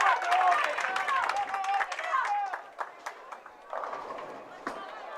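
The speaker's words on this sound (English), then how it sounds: "These Falcon bowlers in the crowd encouraging their Saint teammates, trying to tell them no open frames" Bowling crowd at a girls' high school state qualifier, fellow bowlers cheering and calling encouragement to teammates on the lanes, a steady mix of voices and shouts with bursts of clapping.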